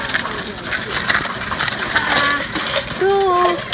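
Loose coins rattle and clatter as they are poured into a Coinstar coin-counting machine, a continuous loud jingling churn with the machine's mechanism whirring underneath, and a brief high tone near the end.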